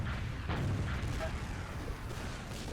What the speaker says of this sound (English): I'm laying down rockets to clear the point